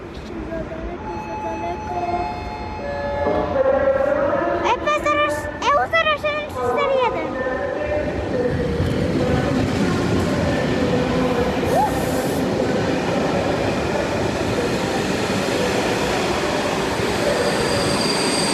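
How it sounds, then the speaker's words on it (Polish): An Intercity train pulls into a station in Poland with loud rumbling, screeching wheel squeals and rhythmic clatter over the rails, the noise building and holding close by. "Wjeżdża pociąg Intercity"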